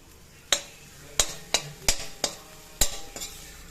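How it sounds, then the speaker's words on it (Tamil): A spoon repeatedly scrapes and taps against a pan while stirring elephant foot yam curry as it roasts, with about seven sharp clinks spaced unevenly over a faint sizzle. "இந்த மாதிரி கலந்து விட்டுட்டே இருந்தோம்னா நல்லா உதிரி உதிரி உதிரியா ரொம்ப நல்லா வந்துடும்"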